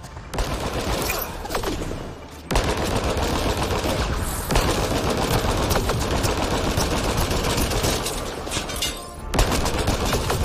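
Sustained automatic gunfire from a Mass Effect Andromeda firefight rattles in dense continuous bursts, with a brief lull around two seconds and a layer of loud rapid fire throughout.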